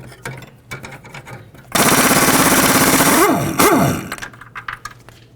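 A pneumatic impact wrench rattles loudly and close for about two seconds, with a rising and falling pitch, while removing the nut from the front shock bolt of a 1994–2004 Chevy S-10 pickup; there is clanking before and after.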